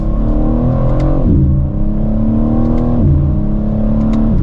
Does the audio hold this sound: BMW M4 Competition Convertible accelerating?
yes